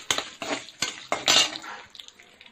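Dried chillies and asafoetida sautéing in a pan: a spoon scrapes and clinks against the metal in about five quick, close strokes over a faint sizzle, with no voices.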